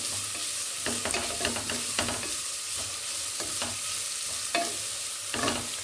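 Carrots for a carrot palya stir-frying in a pan: a steady close sizzle throughout, broken by repeated scraping clatters of a spoon stirring the vegetables, with no voices.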